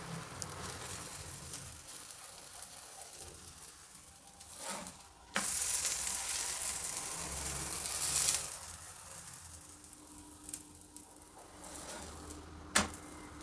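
Curd paratha fries in oil on a pan, giving a continuous sizzle that swells into louder bursts, with brief sharp spatters and scraping stir sounds, close and alone without talk.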